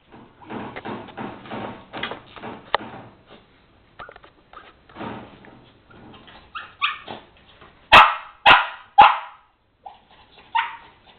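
A dog barks in a home, several loud close barks in quick succession with whimpers and softer yelps between them, mixed with scattered household sounds.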